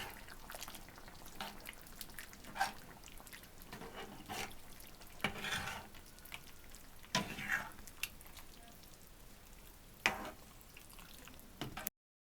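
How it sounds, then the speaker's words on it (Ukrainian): Zucchini, chicken fillet and onion fry together in a pan while being stirred, giving a quiet continuous sizzle broken by scattered scraping strokes and clinks of the utensil. "Це все ретельно перемішую."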